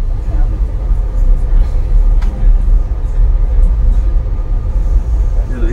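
Ranikhet Express train rolling into Jaisalmer station, a loud continuous low rumble of wheels and carriages heard from on board, steady for several seconds with no talking.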